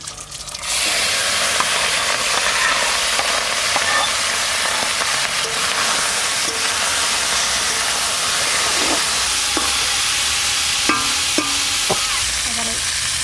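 Gangchela fish hit hot oil with bay leaf and cumin, setting off a sudden loud, steady hiss and sizzle that runs on evenly. Faint scrapes and clicks from the pan sit underneath, and no one speaks.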